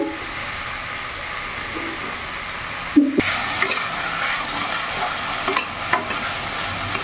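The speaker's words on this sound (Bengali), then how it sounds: "লবণ দিয়ে ভালো করে নাড়াচাড়া করে নিয়েছি।" A spoon stirs salted vegetable soup in a pot, producing a steady simmering hiss with occasional scraping knocks and clinks against the pot, close by and without speech.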